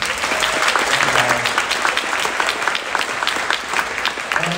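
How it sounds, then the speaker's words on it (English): An audience at a middle school spring concert claps for the teachers, a loud, even stretch of crowd applause with faint murmurs underneath. "Big round of applause for them."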